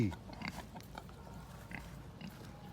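Crossbreed boars grunt softly in a pen, with faint, low snorts and rustling close by.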